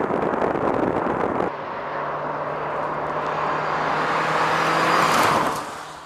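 A 2014 Ford Fiesta with a 1.6-liter four-cylinder drives hard around a test track. The engine roars steadily, shifts briefly, then rises and swells before fading as the car moves away.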